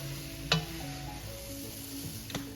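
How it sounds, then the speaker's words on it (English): A spoon stirs cheeseburger soup in a pot under a faint simmering hiss, with two brief clinks of the spoon against the pot. "I'm gonna mix that up"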